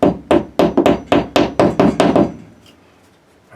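A hammer taps a molly anchor into drywall with about nine quick, sharp knocks in a steady rhythm, close and loud, followed by a fading pause.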